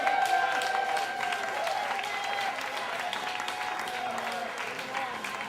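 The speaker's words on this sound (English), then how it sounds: "Keep clapping, everybody. Keep clapping." Audience applause for a storyteller at a live storytelling event, continuous dense clapping that tapers slightly, with a faint voice and some tonal sound beneath it.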